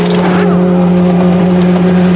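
GP2 race cars roar past at Spa-Francorchamps during a race, a loud, continuous engine drone with a rising whine as cars pass close by, with no talk over it.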